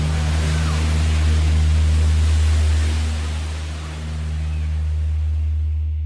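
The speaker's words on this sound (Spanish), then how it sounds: "En el mar, las olas provocaban el caos." Ocean waves surge at sea in a loud, continuous roar with a deep rumbling low end that swells and dips slightly, with no other sound.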